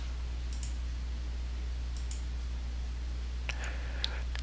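Faint mouse clicks on on-screen buttons, a few light taps scattered over a steady low electrical hum.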